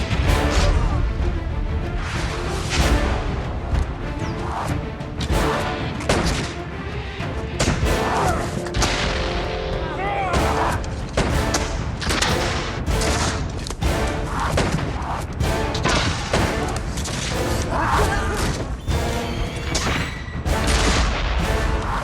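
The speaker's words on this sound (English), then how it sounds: "The colonists' guns are deadly from 80 metres, but they're slow to reload" Colonial-era muskets fire in a reenactment of the Battle of Parramatta, with rapid overlapping gunshots, thuds and booms in dense volleys throughout, loud and chaotic with some shouting voices mixed in.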